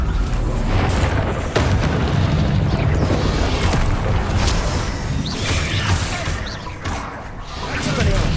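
Spell combat in Hogwarts Legacy ends with a Bombarda spell exploding, one of several dense booms and crashes layered over ongoing battle noise and voices.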